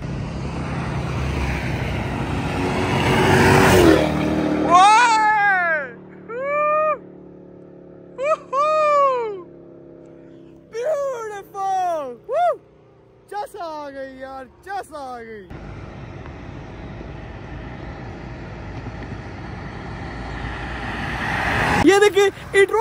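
A Mercedes AMG sweeps past on a fly-by, a loud, broad engine roar for the first few seconds that returns near the end, with voices talking in the quieter stretch between.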